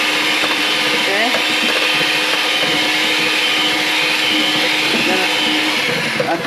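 An electric mixer beats eggs on low speed for pizzelle batter in a home kitchen. A continuous close motor whir runs throughout, with voices faintly under it.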